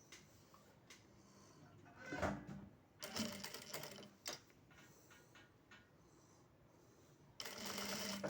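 A sewing machine stitches a baby bath towel in short bursts, quiet clattering runs broken by pauses and small handling clicks, with a longer steady run at the end.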